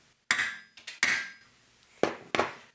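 Several sharp metallic taps of a center punch marking a spot on a 1930s Globe tube amplifier ring out one at a time, close and crisp, with short pauses between strikes and silence otherwise.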